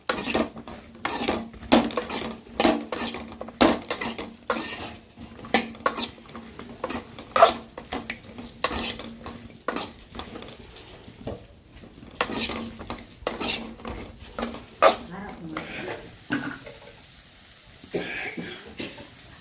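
Okra curry seasoned with sambar powder and turmeric being stirred in a metal pan, a spoon repeatedly clanking and scraping against the pan in quick irregular bursts, fairly close, with a faint sizzle underneath.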